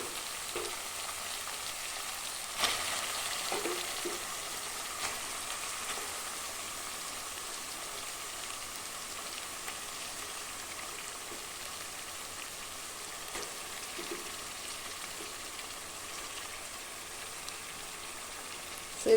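Half a kilo of broiler chicken frying with masala in a pan for a green chilli coconut curry, a soft steady sizzle running throughout with an occasional faint clink, no talking.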